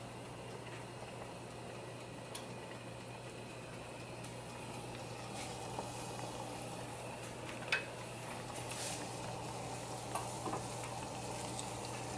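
Oreos coated in batter deep-fry in hot oil, giving a steady, even sizzle and bubbling with a few small pops. It is close and fairly quiet.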